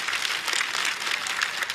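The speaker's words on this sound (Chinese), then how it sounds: "再次掌声送给何洁" Audience applause at a Chinese stand-up comedy show for a comedian, a dense, continuous crackle of many hands clapping at once, steady and moderately loud from start to finish.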